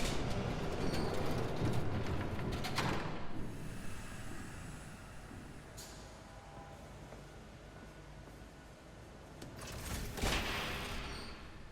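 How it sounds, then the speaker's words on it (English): A train in the video game Batman: The Telltale Series rumbling past with a broad, steady roar that eases off midway, then swells again near the end with a hissing surge. "There's a train coming."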